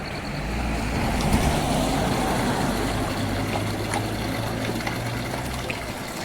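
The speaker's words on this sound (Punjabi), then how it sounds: "ਪਹਿਲੀ ਵਾਰ ਦੇਖਿਆ ਆਪਾਂ ਤਾਂ ਨਮਕ ਵਾਲਾ ਪਾਣੀ" Salty spring water trickles and gushes steadily from a mountain salt source in Himachal, a continuous close wash of flowing water with a low rumble underneath and no talking.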